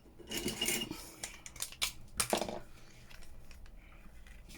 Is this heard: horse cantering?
no